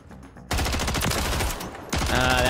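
Loud, rapid MTZ rifle fire rings out in the Warzone video game, with dense back-to-back shots that ease briefly and then return in a second close burst.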